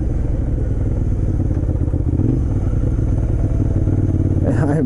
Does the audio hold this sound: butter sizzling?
no